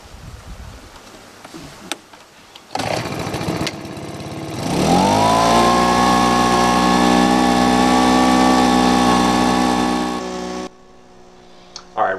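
Makita four-stroke engine driving the blower on a dry and wet gold washer starts up and settles into a loud, steady running drone with a strong harmonic hum, then cuts off near the end.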